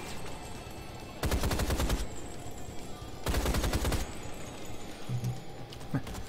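Gunfire in the Rise of the Triad video game: two sustained bursts of rapid automatic shots, each about a second long, loud and close over a low game backdrop, with a few lighter sounds after.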